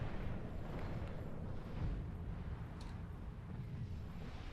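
Bombing-run explosions in a real-time strategy game, heard as a continuous dense low rumble of blasts at moderate, even loudness, with no clear separate booms and no talk.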